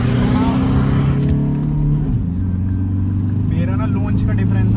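Tata Harrier and Toyota Fortuner SUVs launch side by side in a drag race, engines roaring and revving hard under acceleration, loud and close, with an upshift partway through and people talking over the engine noise.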